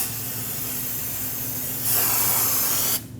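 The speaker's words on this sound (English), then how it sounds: "now spray the braking surface on the outer part with brake parts cleaner" Brake parts cleaner hisses steadily from an aerosol can onto the outer braking surface of a Toyota Corolla front brake rotor, one continuous close spray that grows briefly louder before cutting off.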